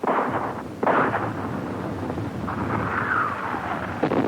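Artillery shelling during the Battle of Berlin: heavy booming blasts roll and rumble continuously, with a few sharper impacts standing out over a dense, loud low roar.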